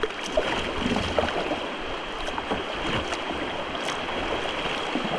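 River rapids rush around a kayak in Allegheny National Forest, a continuous, fairly loud broadband wash of churning water close by, with scattered splashes and knocks against the boat.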